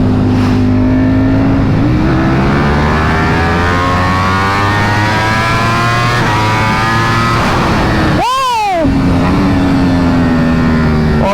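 A 2023 Ducati Panigale V4 sport bike engine revs loud and close, holding a steady high-pitched multi-cylinder drone that climbs, then snaps through a sharp rising-and-falling rev spike near the end before settling back to a high idle.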